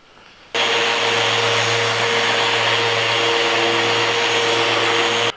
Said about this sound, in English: We just sanded the bottom.